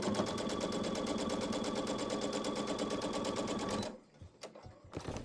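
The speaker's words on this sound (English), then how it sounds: "Chain piecing here." A sewing machine runs steadily for about four seconds, chain piecing quilt block pieces with a rapid, even stitching rhythm, then stops and a few quiet handling sounds follow.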